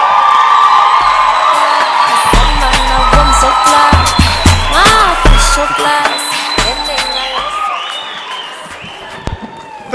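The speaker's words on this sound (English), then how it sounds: "Can we all stand up and give a round of applause," Standing ovation at an International Nurses Day celebration, loud crowd applause mixed with cheering, whoops and shouts, strong at first and gradually thinning toward the end.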